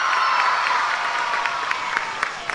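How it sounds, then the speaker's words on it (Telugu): An audience at a public address applauds, a dense, fairly distant wash of clapping that holds steady and then thins toward the end. "గట్టిగా చప్పట్లు కొట్టి అభినందించండి."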